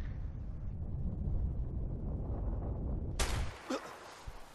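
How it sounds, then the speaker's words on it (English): In the A Way Out video game, a propane tank is shot after a stretch of low rumbling ambience: a sudden loud gunshot-like crack bursts into a blast, followed by a few fading debris thuds. "I'm just gonna shoot the propane tank."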